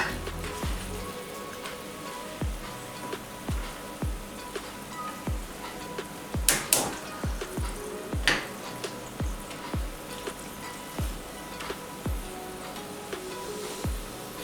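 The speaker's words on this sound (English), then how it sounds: "Fry one side for at least 35 to 40 seconds." Paratha fries in a pan after flipping, a soft, steady sizzle running under repeated light taps and scrapes of a spatula at a regular pace, with a couple of sharper clatters midway.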